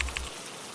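Steady hiss of falling rain, an even wash of drops with no other sounds.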